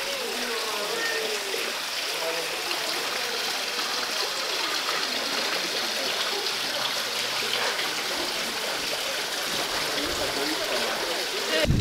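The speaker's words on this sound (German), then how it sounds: "Und nach all den wasserlosen Brunnen endlich einer, der sprudelt." A fountain splashes and bubbles in the Schloss Hof palace garden, a continuous close rush of falling water with no pauses.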